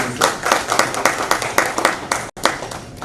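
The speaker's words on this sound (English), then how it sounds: "a round of applause for everybody sitting in this room" Audience applause at an enterprise services and digital transformation summit. Steady clapping fills the room for about three seconds and is loud and close, with a brief dropout near the end before the clapping resumes.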